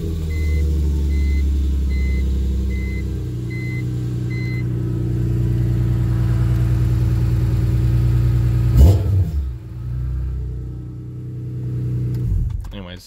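A BMW E46 M3 with a lightweight driveline idles with a low, steady engine drone, then gets a sharp rev near the end. A faint repeating beep sounds over it early on.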